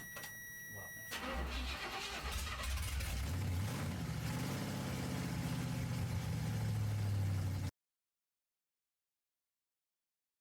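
A motorhome engine cranks and fires, then runs steadily while the throttle is opened, building to a louder, rising drone before cutting off abruptly; a brief word is spoken near the start.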